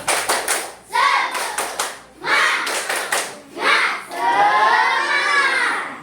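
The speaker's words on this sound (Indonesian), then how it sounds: "Tepuk semangat." Schoolchildren in a classroom perform a patterned spirit clap, crisp bursts of quick clapping in short groups separated by pauses, ending in a long burst of excited shouting and cheering.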